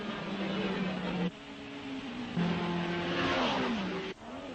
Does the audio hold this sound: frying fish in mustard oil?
no